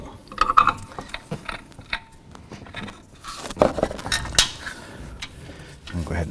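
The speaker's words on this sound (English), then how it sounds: "we'll go ahead and continue removing this nut from the shock assembly." Quick clicking ratchet strokes loosen the top nut on a 2007-17 Jeep Wrangler front shock assembly, close up, in irregular bursts with occasional metallic clinks and brief pauses between turns.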